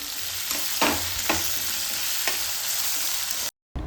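Green chillies, ginger and onions sizzle steadily in hot oil over mustard seeds, with a few scraping stirs of a spoon breaking the constant frying hiss; no voices, and the sound cuts off sharply at the end.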